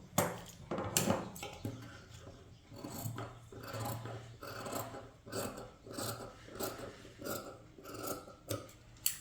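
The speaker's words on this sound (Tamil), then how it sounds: "இந்த மாதிரி கொண்டு வந்துட்டு இதை கட் பண்ணி எடுத்துக்கலாம்." Scissors cutting through blouse fabric during tailoring, a series of soft rasping snips in an uneven rhythm, close and faint, with no talk during the cutting.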